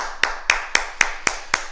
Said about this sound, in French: Et on s'applaudit, bravo